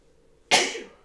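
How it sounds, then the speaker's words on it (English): A single sudden sneeze erupts after a quiet moment in a room during a knitting podcast, sharp and fairly close, then trails off quickly with no talk over it. "There's a sneeze coming."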